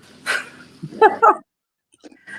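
A fed, contented dog makes short whimpering, breathy vocal sounds in a few close bursts, with a brief pause before fainter sounds return at the end.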